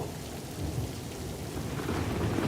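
Steady rain falls outdoors with a low rumbling undertone like distant thunder, a dense continuous hiss that grows slightly louder, with no talking.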